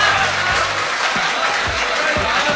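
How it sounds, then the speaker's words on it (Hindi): Audience applause at a mushaira poetry recital: a dense, loud, sustained wash of many hands clapping from a large crowd, with faint voices mixed underneath. "जोरदार तालियों से इस्तकबाल किया जाए"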